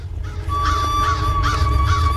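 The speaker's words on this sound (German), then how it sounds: "Merkwürdig, die Raben sammeln sich." Ravens in a cartoon give a series of four repeated, loud honking caws in steady rhythm over a low rumbling background with a held tone.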